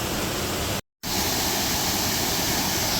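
Steady broadband roar of a large waterfall heard up close while exploring on foot, loud and continuous apart from a brief dropout near the start, with no voices.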